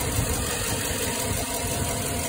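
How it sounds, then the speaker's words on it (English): A 2007 GMC engine with a cylinder 4 misfire idles steadily, a continuous close rumble with no talk over it. "Cylinder number 4 misfire."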